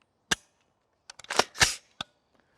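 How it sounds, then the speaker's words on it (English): Two-stage trigger on a Stag Arms Covenant 6mm ARC rifle, dry-fired at close range: a crisp click, then a cluster of quick mechanical clicks and a rattling reset, ending with one more sharp click in quiet surroundings. "It has a very, very audible click and reset and everything."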